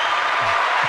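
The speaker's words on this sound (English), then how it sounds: "Round of applause for you." A live podcast audience breaks into a round of applause and crowd cheering, loud, dense and sustained across the whole moment.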